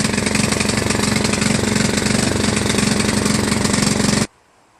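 A John Deere LA105 lawn tractor engine runs rough nearby, a loud, uneven chugging drone that pulses steadily for about four seconds and then cuts off abruptly into near silence.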